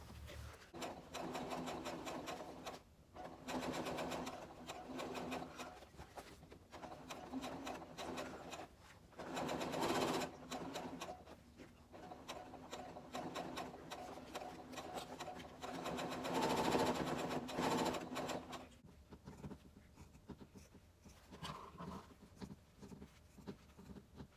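Sewing machine stitching two fabric pieces together along curved edges for a crochet bag, running in a series of bursts separated by brief pauses, moderately close with no talk.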